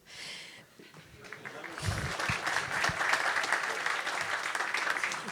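An audience at a French panel debate breaks into applause, building after a quieter opening into a dense, steady wash of clapping that holds at moderate loudness to the end, with a brief murmur near the start.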